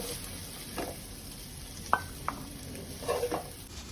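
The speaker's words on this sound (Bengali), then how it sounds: "আর কিছুক্ষণ আমি এইভাবে নাড়াচাড়া করব, তারপর আমার বেরেস্তা রেডি হয়ে যাবে" Onions fry in oil for birista, a steady soft sizzle running throughout while a spoon stirs them, with a few sharp scrapes and clinks against the pan.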